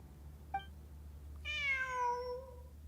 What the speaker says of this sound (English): It's a brown kitty.